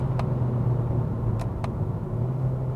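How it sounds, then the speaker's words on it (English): Steady low engine drone from a 2022 Kia K5 driven at night, with faint shifts of the 6-speed automatic and a few brief clicks, heard from inside the cabin. "now let me just show you the 6-speed automatic working in actions"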